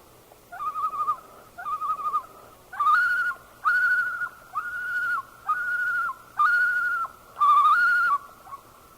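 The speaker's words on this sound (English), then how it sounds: "We'll listen next to a series of tremolos given in the air." Common loons giving tremolo calls in flight, a series of about eight loud, wavering laughing bursts in a regular rhythm, each a second or so long with short gaps, clear and alone against quiet background.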